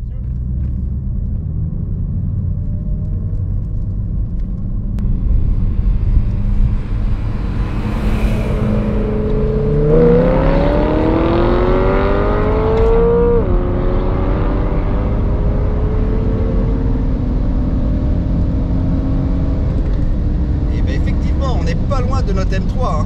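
Two BMWs, an M3 E92 and a 330d with stock and remapped tunes, accelerate side by side, a steady engine drone swelling with rising revs under continuous in-car talk.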